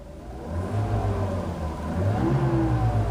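A 1992 Mercedes-Benz 300E engine runs close by with a low steady hum, its pitch rising slightly as it revs, with no voices over it.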